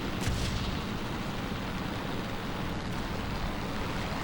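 Cannons on a Macchi C.202EC fighter in War Thunder fire in a dense, steady roar, with a sharper burst near the start and continuous heavy rumble after, loud and unbroken with no talk.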